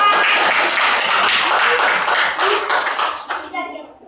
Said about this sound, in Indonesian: tepuk tangan kelompok 4